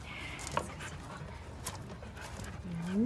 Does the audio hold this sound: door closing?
no